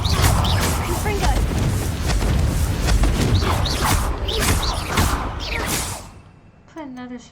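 Confringo fire spell in Hogwarts Legacy, heard as loud whooshing blasts and impacts in a cave under a continuous rumble, ending abruptly, followed by a short musical chime.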